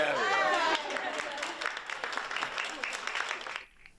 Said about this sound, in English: A round of applause for the King.